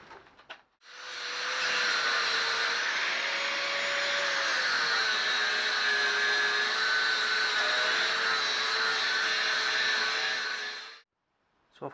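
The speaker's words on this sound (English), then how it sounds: "Grinder time again." An angle grinder cuts the bodywork of a classic Mini during doorstep replacement, giving one continuous high, whining grind for about ten seconds with slight pitch wavers. It starts and stops abruptly, close and loud.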